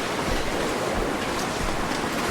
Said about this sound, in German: Da hinten ist ein Wasserfall.